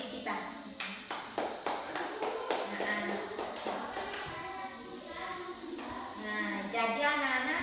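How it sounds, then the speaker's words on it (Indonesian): Fifth-grade schoolchildren clap together in a classroom during a social studies lesson, a quiet run of sharp, evenly spaced claps in a patterned rhythm that fades out as a voice carries on. "Tepuk tangan ke kita."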